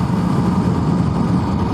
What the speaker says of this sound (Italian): Senti come richiama il motore.